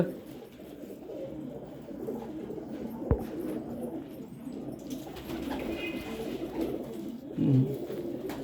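Pigeons in a breeding setup coo softly and steadily against a low ambient murmur, with one brief sharp knock partway through and a louder, closer coo near the end.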